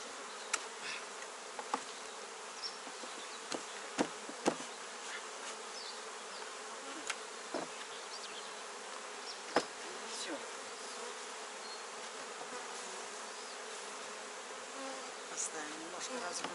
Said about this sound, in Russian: Немножко разгрузим, потому что пчелы работают хорошо.